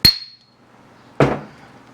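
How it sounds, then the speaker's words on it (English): A brass hammer strikes a Yamaha AT2 125 enduro crankshaft twice, each a sharp ringing clank about a second apart, the first with a brief metallic ring. "I'm going to take my brass hammer and give it a whack right there."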